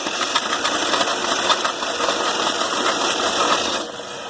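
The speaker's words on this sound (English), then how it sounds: "hopefully the battery's got enough juice to crank it" Dodge 360 engine cranking over on a weak battery, a steady, close, loud mechanical churning with fast rhythmic pulsing that eases slightly at the end.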